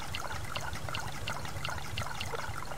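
Water being poured to fill containers in the survival game Subsistence, a steady trickling stream with faint rhythmic ticks over a low hum, heard alone with no talk.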